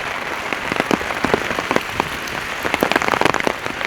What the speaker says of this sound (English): So the intensity of the rain has increased now.